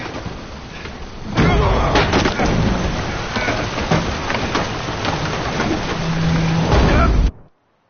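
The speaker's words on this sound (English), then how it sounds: "Didn't bargain for no storm" Thunderstorm with heavy rain in the video game Witcher 3, a loud, dense wash of rain and rumbling thunder that swells after a quieter opening and holds steady for several seconds before cutting off abruptly.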